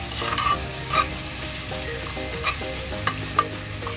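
Garlic, onion and small cubes of chicken sauté in a pan for a Filipino home-cooked lunch, giving a steady close sizzle with scattered clinks of a spatula on the pan, no voices.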